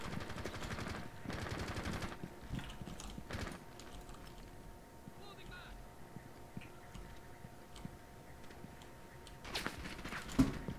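Gunfire in the video game Rainbow Six Siege, with several short bursts of shots, fairly faint and distant, over a steady low hum with scattered clicks and no talk.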